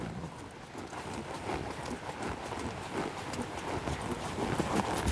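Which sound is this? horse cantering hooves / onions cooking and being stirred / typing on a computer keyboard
horse cantering hooves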